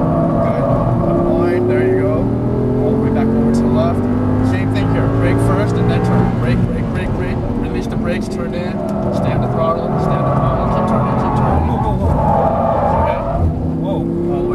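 Audi R8 on a race track, its engine note rising and falling steadily through corners and braking zones, loud and continuous, with a voice talking over it throughout.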